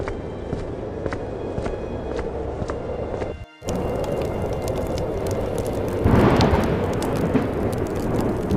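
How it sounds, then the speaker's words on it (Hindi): Heavy rain pours as a dense, constant roar in a Hindi moral story about a cold night, with a brief dropout and a louder rumbling swell later that suggests thunder. "रास्ते में बहुत जोरों से बारिश शुरू हो जाती है"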